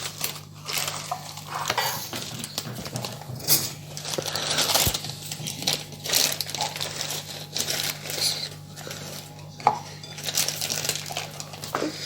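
Eggs whisked by hand with a wire whisk in a bowl for a chocolate cake, a steady rapid clatter and scraping against the bowl that carries on for the whole stretch with no talking.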